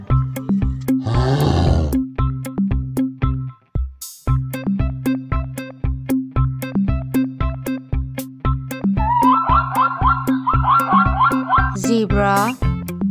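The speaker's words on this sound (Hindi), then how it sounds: "भालू" A bear's growl, a drawn-out roaring sound near the start that stands out loud and close over a steady, rhythmic children's-song backing, with a short break before the music carries on.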